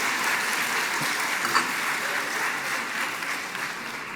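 A church congregation at a Sunday evening worship service applauds steadily for several seconds, a dense, even wash of many hands clapping at moderate distance.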